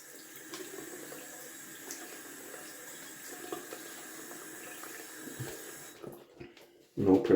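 Ice-cold tap water running into a sink while preparing for a wet shave, a soft steady trickle that stops near the end, followed by a brief louder splash as the face is wetted.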